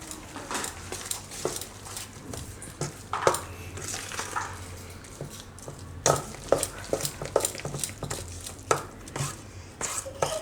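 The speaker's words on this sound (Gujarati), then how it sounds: "અને આ બધું આપણે આમાં મિક્સ કરી લઈશું આ રીતે" Clinking of a spoon against a bowl as garlic uttapam batter is stirred and mixed, with repeated scraping and tapping at an uneven pace, close by.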